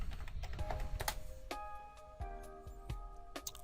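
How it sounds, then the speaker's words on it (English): Password being typed on a computer keyboard, a quick run of sharp, close key clicks tapping in an uneven rhythm over a soft background hum. "after typing in the password"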